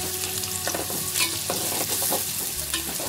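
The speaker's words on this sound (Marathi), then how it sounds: "आणि आता हे सगळं मिक्स करून घेऊया।" Onion, garlic, curry leaves and spices fry in a pan while being stirred, giving a close, steady sizzle with repeated scraping and clinking from the spoon.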